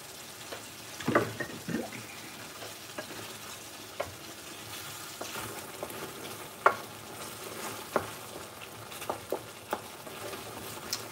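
A madras curry fries in a pot while a spoon stirs it, making soft sizzling with intermittent scrapes and clicks against the metal; it is fairly quiet and close, with no talking.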